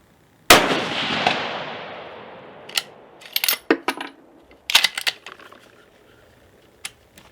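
A single sharp rifle shot from a Steyr Pro Hunter II bolt-action rifle cracks loudly and decays into a long echo, followed by scattered clicks and handling noises.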